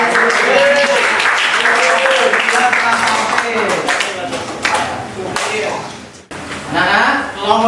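A classroom of students clapping after a group presentation, sharp dense claps close by for several seconds with voices mixed in, briefly dropping before picking up again.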